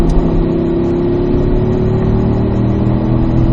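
A race car engine pulls hard in fourth gear during instructor laps at Spring Mountain, giving a loud, steady, close engine roar that climbs slowly in pitch while holding full power throughout.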